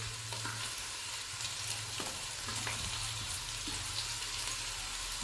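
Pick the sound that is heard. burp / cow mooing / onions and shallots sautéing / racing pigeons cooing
onions and shallots sautéing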